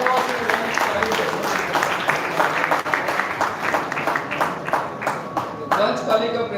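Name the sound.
applause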